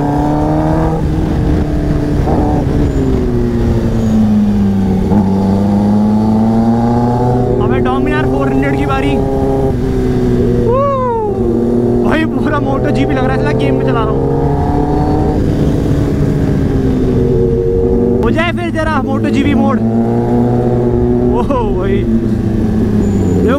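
KTM RC390 motorcycle engine droning loudly and steadily while overtaking on a road ride, with pitch rising and falling through throttle changes and a rider talking over it in places.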